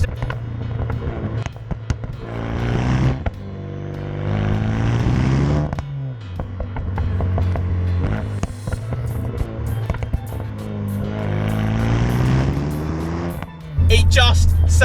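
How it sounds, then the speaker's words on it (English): A tuned Renault Megane R.S. 250 Cup hot hatch making about 320 bhp, with an aftermarket exhaust that sounds loud and close. It rises through gears in long rising revs with crackles on the shifts and a sharp pop near the end. "a phenomenal sounding exhaust system"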